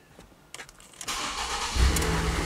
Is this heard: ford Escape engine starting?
yes